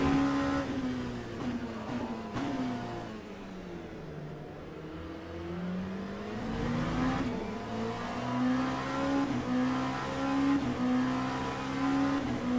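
Engine of an LMP2 prototype race car in the Le Mans Ultimate sim at Bahrain, a steady high-pitched drone whose pitch dips as the car lifts off and rolls, then climbs again under acceleration, loud and continuous with no talk.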